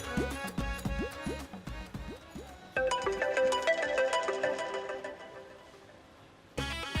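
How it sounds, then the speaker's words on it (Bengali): A phone ringtone plays in a home comedy-drama scene, a repeating melodic tune with rising note bursts that shifts into a fuller, busier pattern before stopping briefly and starting again, loud and close. "জি রিং রিং হচ্ছে"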